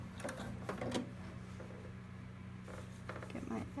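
A sewing machine stitching fabric in short quiet runs, a faint mechanical whirr with light rapid ticking, separated by pauses over a steady low hum.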